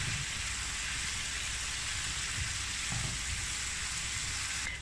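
Chickpeas roasting in a hot pan, a steady dry sizzle and crackle holding even and moderately loud throughout, with no talking.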